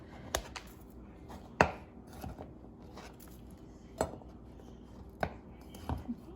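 A kitchen knife chops the tough root end off garlic cloves on a cutting board, with about half a dozen sharp, separate knocks spaced irregularly over a few seconds in a quiet room.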